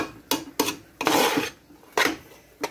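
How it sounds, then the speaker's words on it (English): Vegetable lo mein with soy sauce is stirred in a pan with a utensil, giving a few close, scraping, rasping strokes in an uneven rhythm, one longer scrape in the middle, with no talking. "So you just stir it up for everything to get in."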